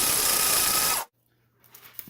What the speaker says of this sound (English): We're going to use my fancy spice grinder.